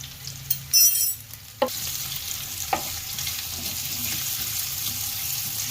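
Papaya simmers in a pan over a low gas flame for a Saurashtra-style papaya and chilli sambharo, giving a steady soft sizzle with a few sharp clinks and stirring knocks near the start.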